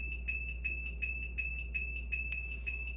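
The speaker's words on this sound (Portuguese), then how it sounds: "o alarme está soando porque houve uma diferença de temperatura entre a temperatura real e a temperatura almejada" An N20K48 temperature controller alarm beeps in a steady rapid pattern, about three short electronic tones per second, close and alone, set off by a gap between the actual and target temperature.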